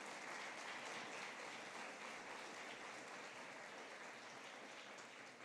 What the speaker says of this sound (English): let's give each of you a round of applause